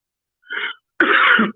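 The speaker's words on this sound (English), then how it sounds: "Sorry, I'm coughing." A man in a discussion about election results coughs twice, a short cough followed by a longer, harsher one, close and clear against silence.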